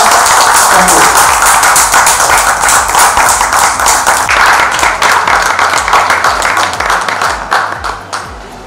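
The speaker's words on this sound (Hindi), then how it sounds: "तो मैं बहुत तालियों के साथ में स्वागत देना चाहूँगा" Seminar audience of Ayurveda practitioners at a hotel in Jaipur clapping to welcome a speaker, a loud, close burst of dense hand claps that gradually thins and fades toward the end.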